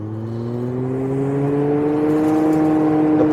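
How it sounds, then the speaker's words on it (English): A Sealtech camper leak-test vacuum machine runs with a steady, close whirring drone whose pitch climbs slowly as pressure builds, holding loud and even throughout. "now that the machine's actually running and we've got some pressure going in there"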